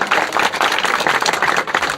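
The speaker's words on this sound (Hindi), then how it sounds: "इसलिए आप लोग ताली मत बजाइए।" A crowd claps at a public speech, dense and loud rapid handclaps that hold steady for a couple of seconds with no voices on top.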